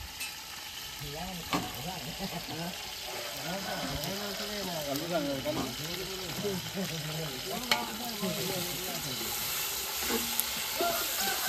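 Villagers cooking food, with a steady frying sizzle and stirring scrapes running throughout, overlaid by sung or chanted voices nearby.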